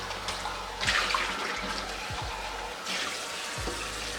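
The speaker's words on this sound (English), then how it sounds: "I'm gonna take warm water, so that the sugar will go ahead and kind of melt down" Warm distilled, filtered water pours steadily onto sugar, a continuous close splashing stream with a few brief surges and dips, with no talking over it.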